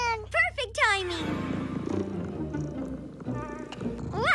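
A cartoon cat purrs in a low, steady rumble. It follows bright, rising animated vocal sounds, and cartoon character voices and music play over and around it.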